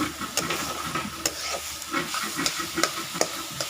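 Leafy greens (shak) with potatoes are stirred in a hot pan, a close, steady sizzle broken by repeated scraping strokes of the utensil at a loose, regular pace.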